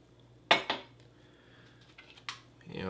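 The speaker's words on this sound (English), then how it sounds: "And let's get this a stir really quick." A spoon clinks and scrapes against a pot while stirring rice porridge from a Russian military ration, two sharp metallic knocks and then softer scrapes, close and without talk.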